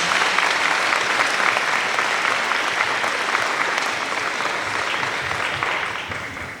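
A full room of people clapping steadily after a speech at a teacher of the year awards event, dense and sustained, tapering off slightly toward the end.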